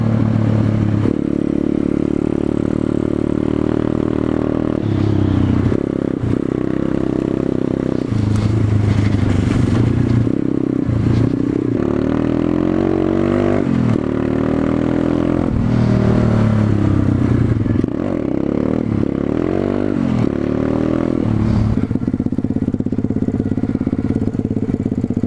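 Pit bike ridden off-road: a loud, close small engine revving and droning continuously, with pitch rising and falling through throttle changes and gear shifts, plus rattling clatter throughout.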